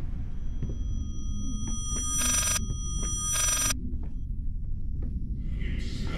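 Two bursts of a telephone bell ring inside a horror video game, each about a second and a half long and separated by a short gap. They sound over a low, droning ambient rumble with faint tonal hums.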